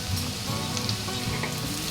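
Tomatoes sizzling in a hot frying pan while a Bengali fish dish is cooked, a steady close hiss of frying with faint crackles and occasional stirring clinks, alone without talk.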